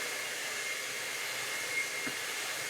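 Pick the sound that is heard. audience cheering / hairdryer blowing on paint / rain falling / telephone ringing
hairdryer blowing on paint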